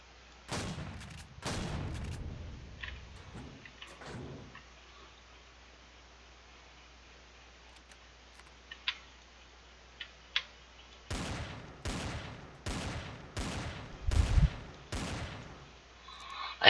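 Gunfire from a six-round weapon in the space survival game Empyrion Galactic Survival: a few sharp shots early on, a quiet stretch, then a rapid run of six loud, evenly spaced reports close up.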